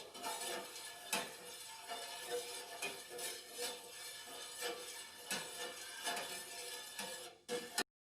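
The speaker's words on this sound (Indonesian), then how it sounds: "masak agar-agarnya dengan api sedang sambil terus diaduk" A spoon scraping and knocking around a pot in steady stirring strokes as agar-agar cooks over medium heat, with repeated soft taps against the metal.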